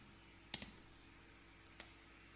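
Three faint, sharp computer mouse clicks while outlining a triangle with the polygonal lasso tool, two in quick succession and one more a moment later, close over quiet room hiss.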